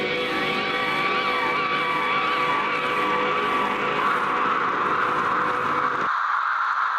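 A squirrel call heavily processed into a sustained, blood-curdling scream, loud and continuous with warbling pitch sweeps, running several seconds before cutting off sharply into a thinner tail.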